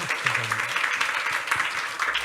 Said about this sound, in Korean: 오늘 좋은 말씀 나눠주신 강사님께 모두 박수 한번 부탁드립니다